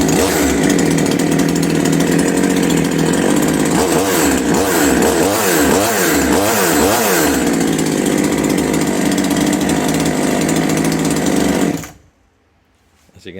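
An ANOVA pruning chainsaw runs loud and close for about twelve seconds, its engine revving up and down in several quick bursts midway before cutting off abruptly into silence.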